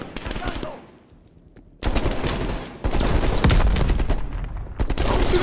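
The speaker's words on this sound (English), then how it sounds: "Who the hell y'all shooting at?" Loud, sustained automatic gunfire in the video game Call of Duty: Black Ops Cold War, rapid bursts that break off briefly and then resume in dense, continuous volleys with a faint voice mixed in.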